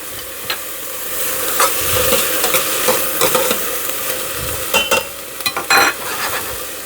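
Ingredients for a Southern sweet cornbread stuffing sauté in a pan, sending up a steady close sizzle broken by irregular spoon scrapes and clinks as they are stirred, with no talking.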